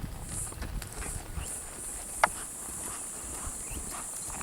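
Hooves of a ridden Spinifex horse clip-clopping in a steady, rhythmic gait at moderate distance, with faint background noise and no talking.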